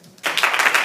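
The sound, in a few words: audience applause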